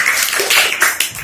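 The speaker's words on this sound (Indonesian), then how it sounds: "Tepuk tangan itu kita semua" A classroom of children clapping their hands together, a brief burst of bright, dense claps with a couple of sharper accents, lasting just over a second.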